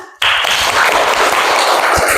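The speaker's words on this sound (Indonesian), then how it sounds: "Kita berikan tepuk tangan." A class bursts into applause in a classroom, a sudden wash of clapping hands that starts abruptly and holds steady and loud for about two seconds.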